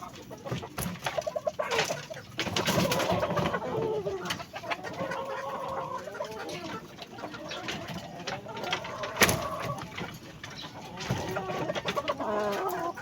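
A mother hen, the brooding hen of a chicken flock that raised aggressive chicks, clucks repeatedly close by amid other chicken and bird calls on a farm, with faint background voices.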